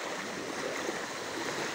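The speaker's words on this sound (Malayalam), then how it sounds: "മുട്ട് കവിഞ്ഞ് നമ്മളുടെ വെള്ളം ഇവിടെ കൂടിക്കൊണ്ടിരിക്കുകയാണ്. മുട്ട് കവിഞ്ഞ് ഒഴുകുകയാണ്." Floodwater rushes strongly along a residential road past houses, above knee height, as a steady, low, continuous wash of moving water with no voices.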